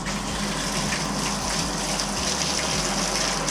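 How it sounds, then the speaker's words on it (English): Hot water gushing from a Moen faucet during a cartridge change, a steady, even rush of running water close by with no talking over it. "Next move is turn the hot water on."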